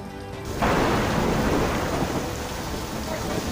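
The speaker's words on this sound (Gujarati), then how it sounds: "બંને તાલુકામાં વીજળીના કડાકા સાથે વરસાદ વરસ્યો છે।" Heavy rain pours steadily close by with thunder rumbling underneath, a sudden loud surge after a quieter start, during a pre-monsoon storm in the Rajula and Jafrabad area of Amreli, Gujarat.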